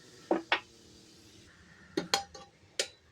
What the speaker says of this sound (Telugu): ఒక్కసారి అయితే మూత ఓపెన్ చేసుకుందామండి.